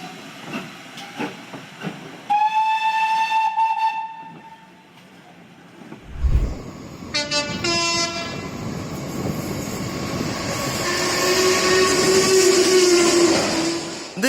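Steam locomotive 4953 at speed releases pressure in a loud, sustained hiss. A whistle sounds and heavy rolling rail noise follows, then a long rushing steam roar builds toward the end, close and loud.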